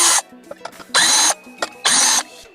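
A cordless drill fitted with a T20 bit backs screws out of the bearing cover on a Husqvarna Automower robotic mower, giving three short whirring bursts close by with small clicks and handling noises between them.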